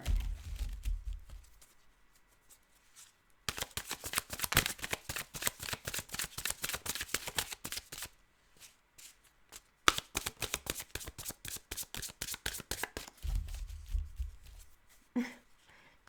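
Tarot cards being shuffled, quick riffling bursts of crisp papery flicks repeated in several runs with short pauses between, close and fairly loud, with a few low thumps as the deck is handled.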